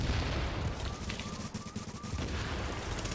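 Sniper gunfire in an online shooter video game, a manhunt match: a dense, noisy mix of rapid shots and booming impacts fills the short stretch, with no talking heard.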